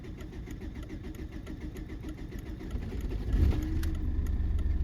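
A BMW 320td diesel with a weak low-pressure fuel pump cranks and struggles to start, its low engine rumble building and then catching with a louder surge near the end, heard close up without talk.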